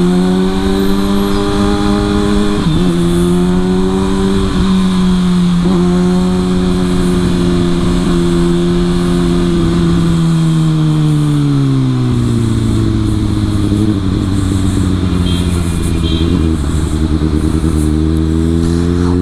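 A Kawasaki Ninja ZX6R sport motorcycle engine pulls hard in third gear, its rising harmonic whine climbing and falling through several surges of acceleration, loud and steady with no voices.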